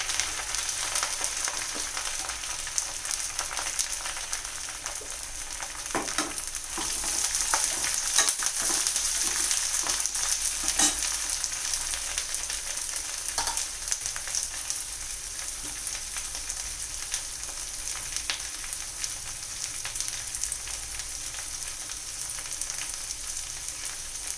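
Green chillies and onions frying in a pan, a continuous bright sizzle lasting throughout with occasional stirring scrapes and clicks, no voices.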